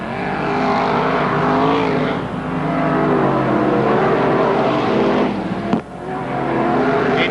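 Several modified race cars roar around a dirt oval at a 1988 Merrittville heat race, a loud continuous engine drone with shifting pitch as cars pass, briefly dipping near the end before surging again.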